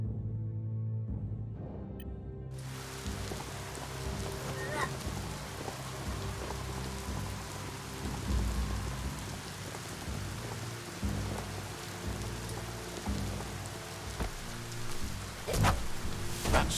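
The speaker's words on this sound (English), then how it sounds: "Did you hear thunder?" Steady rain pattering on surfaces in the video game Biomutant, with low rumbling thunder rolling underneath, continuous and moderately loud throughout.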